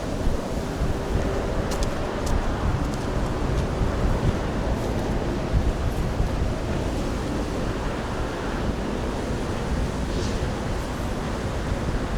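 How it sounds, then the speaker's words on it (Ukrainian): Strong wind buffets the microphone in a steady, roaring rumble on the Dniester riverbank, with a wash like waves or surf beneath it and no voices. "вітер в лице. Доволі сложно."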